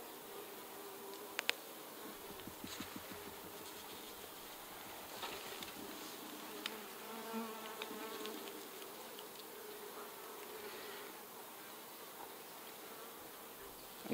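Honey bees humming steadily around an open hive frame with brood, a soft close buzz with occasional louder individual bees flying past, no talking.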